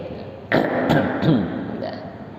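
A person clears their throat with a couple of short, rough guttural rasps, close and fairly loud.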